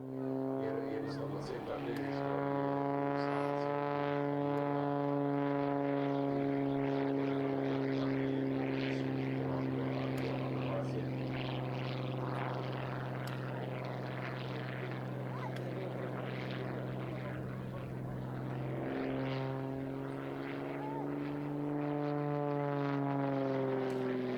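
Propeller-driven aerobatic airplane performing a gyroscopic display at the Varazdin airshow in Croatia, its engine droning steadily at a distance with pitch shifts as it maneuvers, under continuous commentary.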